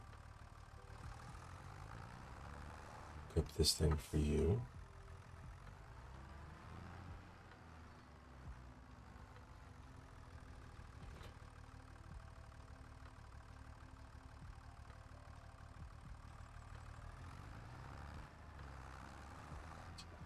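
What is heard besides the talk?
small green tractor engine idling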